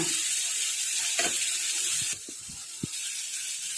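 Food fries in a pan with a steady bright sizzle, broken by a few soft clinks and stirring knocks.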